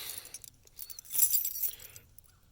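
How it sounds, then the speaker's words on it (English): A bunch of car keys for a third-generation Chevrolet Camaro jangles close by, a bright metallic clinking that swells in the middle of the moment and then settles into a few lighter chinks. "I have the keys for this car here. Look at these keys."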